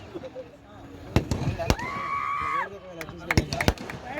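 Firecrackers burst at a crowded sports gathering: about four sharp, loud cracks spaced irregularly through the clip, under steady crowd noise and people talking.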